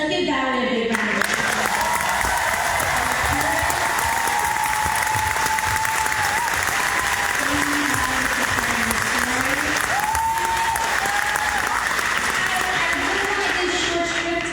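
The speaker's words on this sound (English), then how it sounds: "Let's give Valerie a big round of applause." Town hall audience at an AOC and Tonko event gives a long, steady round of applause for Valerie, dense and sustained, while tonal whoops and cheering voices ride over the clapping.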